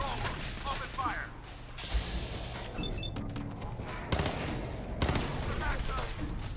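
Gunfire in the game Fallout 4, sustained rapid bursts and scattered loud shots over a busy firefight, with voices shouting amid the shooting.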